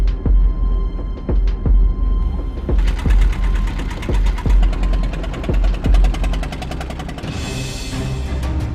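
A small fishing boat's engine chugs close by in a rapid, knocking rhythm with sharp periodic clanks, running steadily with no talk.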